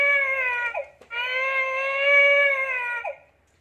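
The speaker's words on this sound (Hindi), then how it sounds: "देख सकते हैं आप बेबी की रोने की आवाज़।" A baby toy plays a recorded infant cry, two sustained wailing sobs separated by a brief catch of breath, close and fairly loud with no talking over it.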